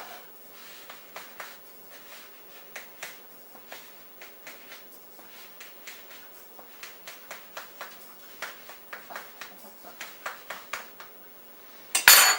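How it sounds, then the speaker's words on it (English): A knife run along the bottom of a cake pan, making a long series of sharp metallic scrapes and taps that start sparse and grow quicker and louder, ending in a louder clatter. "And then I run a knife along the bottom."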